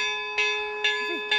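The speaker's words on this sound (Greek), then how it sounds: "Ο Ισπερινός ξεκίνησε, χτυπάνε οι καμπάνες" Church bells ringing for vespers at a mountain church on Kalymnos, three evenly spaced resonant strikes with sustained ringing tones, some quiet background sound between them.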